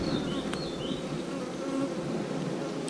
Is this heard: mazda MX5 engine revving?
no